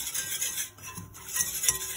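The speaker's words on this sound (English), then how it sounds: "you then go in with your 2 tablespoons of plain flour and just whisk away" Whisking plain flour into melted butter in a metal pot, a close, quick scraping and rubbing rhythm of whisk against the pot.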